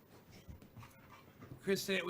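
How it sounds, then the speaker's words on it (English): A riled-up dog pants and whimpers at a distance while people talk over it, and the whining grows louder and more excited toward the end. "You got the dog all riled up, Alan."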